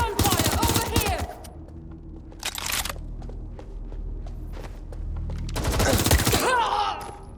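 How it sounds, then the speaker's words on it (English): Bursts of rapid gunfire in the video game Watch Dogs Legion, loud close volleys at the start, middle and end separated by quieter footsteps and rustling, with a voice shouting between them. "Gunfire over here!"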